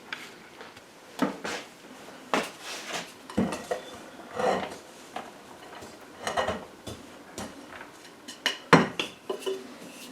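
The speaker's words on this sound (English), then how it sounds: "I will clean off some of the other bowls and things here" Mixing bowls and utensils are cleaned up in a kitchen while making currant tea scones: scattered clinks, knocks and clatters of bowls and cutlery come at an irregular pace over a quiet room, without speech.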